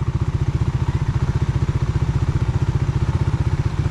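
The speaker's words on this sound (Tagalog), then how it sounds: "Yun oh, umovertake pa isang motor oh" A motorcycle overtakes on a road between Batangas and Bicol. Its engine gives a loud, close, steady, fast-pulsing drone with a rattly edge that holds for the whole stretch, and no voices are heard.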